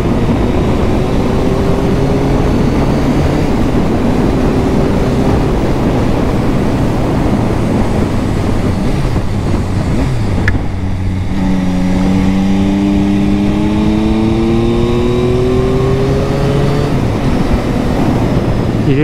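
A 2022 Yamaha MT-09 motorcycle engine, derestricted from an A2 version, is heard while riding, loud and close under heavy wind rush, with rising and falling revs through gear changes.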